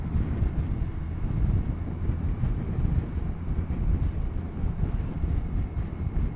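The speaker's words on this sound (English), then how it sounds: "It doesn't help when the wind is coming sideways though." Strong crosswind buffets a rider on a motorcycle with a big screen and full fairing, a loud, steady low roar that surges and gusts throughout with no talking over it.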